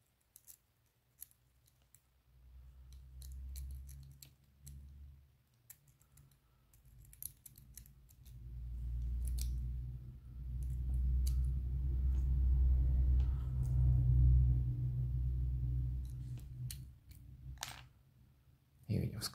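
A bent paperclip picks a padlock with a tension tool turned counterclockwise, giving sparse sharp metallic clicks and scrapes close up. A low rumbling hum swells in the background.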